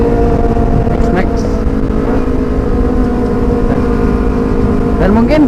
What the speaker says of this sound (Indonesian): pasti suara dari knalpotnya yang lebih masuk daripada suara saya sendiri ya